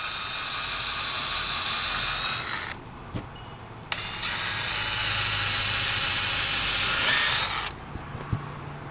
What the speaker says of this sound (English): All right, I'm going to go ahead and pre-drill some holes here.